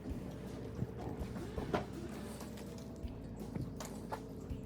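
Horses walking at a farm barn, hooves clip-clopping in irregular, fairly quiet steps amid soft shuffling and low ambient barn noise.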